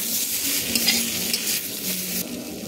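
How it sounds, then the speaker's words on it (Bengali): Spice masala with turmeric and chili powder fries in a pan, sizzling loudly and steadily up close, with faint stirring scrapes throughout. "তারপর এটাকে আমি ভালো করে ভেজে নেব মশলাটাকে"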